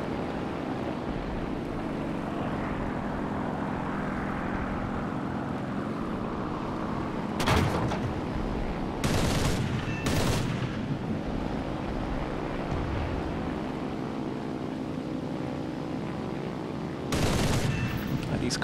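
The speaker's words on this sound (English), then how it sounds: "there's somebody in a bomber in the hangar shooting at people" A bomber parked in an airfield hangar fires its guns in the War Thunder simulator battle, with several short, loud bursts of rapid gunfire cutting through a steady droning engine and wind rumble.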